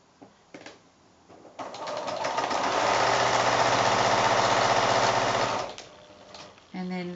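A sewing machine stitching cotton quilt patches for a block of 5-inch squares runs in one loud, continuous burst of rapid needle clatter for about four seconds, with brief starts and stops before and after.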